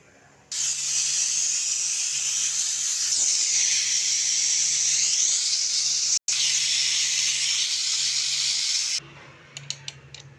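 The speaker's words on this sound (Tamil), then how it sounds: "குக்கர் சவுண்டு வந்தோடனே பார்க்கலாம்" A pressure cooker on the stove lets off a loud, steady hiss of escaping steam for about eight seconds, cutting out briefly midway, with a few faint clicks after the release stops. The pot holds ridge gourd kootu.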